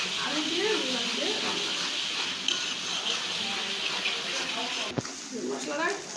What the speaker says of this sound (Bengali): পানি দিয়ে দিচ্ছি, মশলা ভালোভাবে কষিয়ে নিতেছি